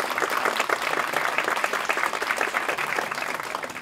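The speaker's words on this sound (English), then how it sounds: "We should give them a round of applause." An audience breaks into applause during a pizza-making demonstration in Punxsutawney, dense and continuous clapping at a moderate level with no talk over it.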